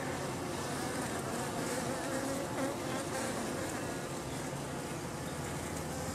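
Honey bees buzz inside a hollow bee tree in a dense, continuous, steady drone, close and fairly loud, with no talking over it.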